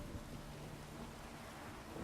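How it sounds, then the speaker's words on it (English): Steady rain falls in The Witcher 3 video game as a soft, even broadband hiss, quiet and continuous with a faint low rumble beneath and no voices. "It's raining right now."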